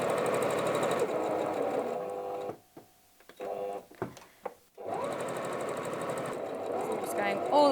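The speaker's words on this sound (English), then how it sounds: "So just secure the start of the stitch with a back stitch." A sewing machine stitches the pieces of a wallet together, starting with a backstitch. Fast, loud mechanical chattering runs close up, breaks off into a pause with a few clicks, then resumes steadily.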